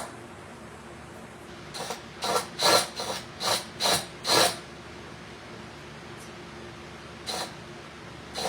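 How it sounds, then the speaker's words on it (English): An electric screwdriver drives a screw into a vintage wall light sconce in a run of five or six short, close ratcheting bursts, followed by a pause and one brief burst near the end. There is no talking. "I need that electric screwdriver to get it started for me"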